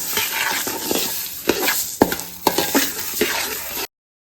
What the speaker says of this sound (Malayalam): നന്നായിട്ട് റോസ്റ്റ് ചെയ്യാം.